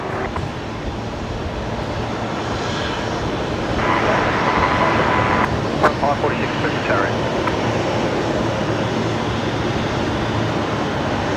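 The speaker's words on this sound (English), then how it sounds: "Jetstar 574 about to touch down from Melbourne as well here" A Jetstar airliner arriving from Melbourne touches down at Brisbane Airport at night, its broad engine roar swelling slightly midway and holding steady under nearby talk.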